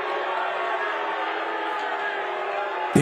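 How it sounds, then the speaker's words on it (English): A large crowd booing a speaker at a political event, a dense sustained roar of voices filling the room, loud and unbroken throughout. "they're booing him hard as fuck"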